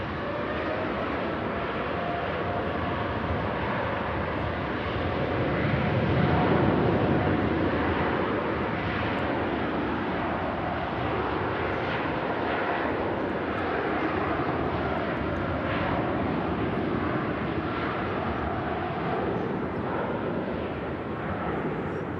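A Boeing 747 departing Manchester Airport produces a loud, continuous jet-engine roar for over twenty seconds, swelling early on and then holding steady as a broad rumble.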